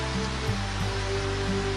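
Steady rain falling at an outdoor gathering, a dense, even hiss that fills the whole moment without letting up, with faint low hum beneath.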